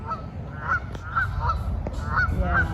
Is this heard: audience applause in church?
no